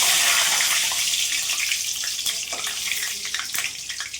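Two bay leaves dropped into hot oil for tempering give a loud, hissing sizzle that starts strong and slowly settles, with a few crackles and pops near the end.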